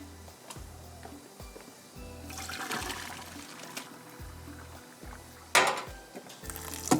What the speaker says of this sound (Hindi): ये इसको थोड़ा सा हम ये अभी बस इसको पानी इसका फेंक देते हैं।